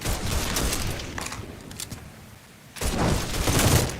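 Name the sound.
gunfire in the video game Mafia 3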